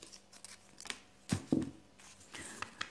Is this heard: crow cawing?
no